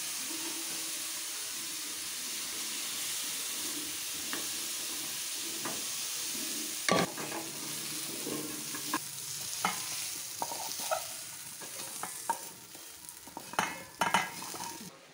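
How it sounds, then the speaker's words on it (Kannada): Cauliflower and potatoes frying in oil in a pan for a gobi aloo curry, a continuous hissing sizzle followed by clattering stirs and scrapes in the second half. "ಇವಾಗ ಇದನ್ನು ಫ್ರೈ ಮಾಡ್ಕೊಳ್ತಾ ಇದ್ದೀವಿ."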